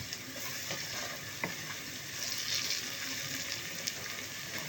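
Spicy onions and spices frying in a pan for Bangladeshi bhuna khichuri, a steady close sizzle with occasional soft stirring scrapes, no talking.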